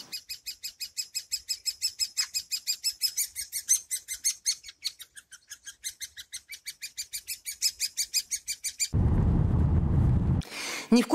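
A woodpecker drums in a long, rapid train of sharp taps that lasts about nine seconds, followed by a loud burst of low rumbling noise.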